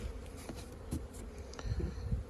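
Honeybees buzz and fly around a hive in spring, a soft, uneven drone with brief passes of individual bees close by, quiet and without talk.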